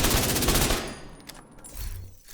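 Rapid automatic fire from an assault rifle or light machine gun in The Division 2, a loud dense burst of shots that stops abruptly, followed by brief softer game effects.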